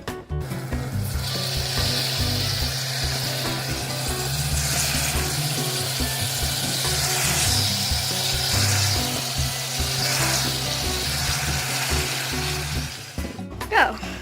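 Chicken liver and gizzard adobo with soy sauce and vinegar sizzles steadily in a hot pan, a loud continuous frying hiss with occasional stirring clatter, close up.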